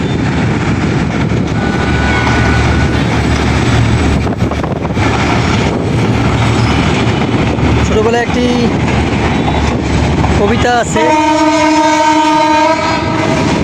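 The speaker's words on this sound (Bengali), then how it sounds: "ট্রেন চলেছে, ট্রেন চলেছে, ট্রেনের বাড়ি কই, ঝক ঝক ঝক ঝক, এই শব্দটি, সেই শব্দটি শোনা যাচ্ছে।" A train rumbles steadily along rail tracks, its horn sounding in a long, loud, harmonic blast near the end, with brief wheel squeals before it and a person talking over the passing noise.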